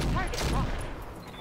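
Gunfire in the tactical video game Roguepoint: a short burst of two or three close shots, fairly quiet, with no speech over it.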